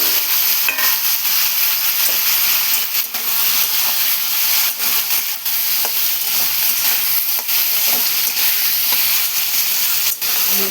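Ripe red tomatoes sizzle and fry in a hot pan with onion and salt for a tomato chutney, a steady loud crackling hiss broken by occasional stirring scrapes, with no talking.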